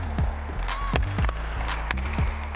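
Ice hockey pucks fired off a stick during rapid passing and shooting practice with a slingshot rebounder, several sharp cracks in quick irregular succession over a steady low hum, a voice faintly present.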